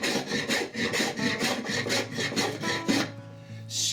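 Hand tool shaving wood on a stick chair seat, producing a close series of rhythmic rasping strokes about every quarter second before the shaving stops and a faint tonal hum remains.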